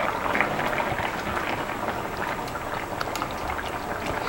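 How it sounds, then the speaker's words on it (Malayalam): A coconut milk meatball curry boiling in a pot, a dense, even bubbling and popping that continues steadily and fairly quietly at close range, with no voices. "നമ്മുടെ കറി നല്ലതുപോലെ തിളയ്ക്കുന്നുണ്ട്."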